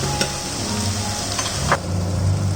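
Mushrooms frying in a pan for green mushroom biryani give a steady, close sizzle with a few brief stirring scrapes and no talk.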